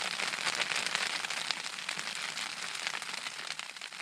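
Steady freezing rain mixed with snow pattering and crackling on a hard surface during a winter storm camp, a dense continuous hiss with no voices.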